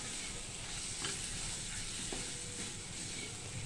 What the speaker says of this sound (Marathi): आता हे मसाले सगळे मी भाजून घेणार आहे अशा तेलामध्ये